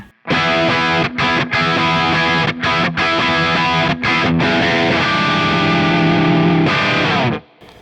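Gibson Les Paul played through its bridge pickup with volume and tone fully up, giving a loud, overdriven rock tone in sustained chords with a few brief stops, ringing out before cutting to silence at the end.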